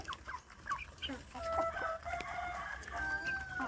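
Free-range village chicks feeding, with soft high peeping and clucking scattered throughout, a few thin trilling calls standing out against a quiet, slightly noisy background.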